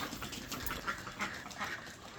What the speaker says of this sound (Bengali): এই যে আমাদের হাঁস দেখেন